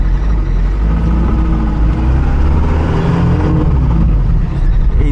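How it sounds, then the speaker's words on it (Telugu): A Hindustan Motors Ambassador car's engine heard from inside the cabin: a loud, steady low rumble and drone that fills the whole stretch without letting up. "ఇంజిన్ నాయిస్ కంప్లీట్గా మన క్యాబిన్లోకి అయితే వినిపిస్తుంది."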